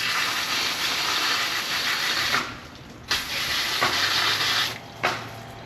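Water from a garden hose sprays steadily over live crabs being cleaned before steaming, a continuous broad hiss broken by a few brief pauses and sputters as the stream shifts.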